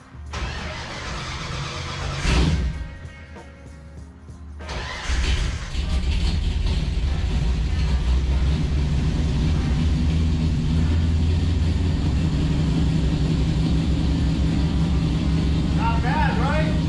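A 1966 Ford Mustang 289 V8 with fuel injection cranks briefly, catches, and settles into a steady, loud, rumbling idle that runs close and continuous for the rest of the stretch.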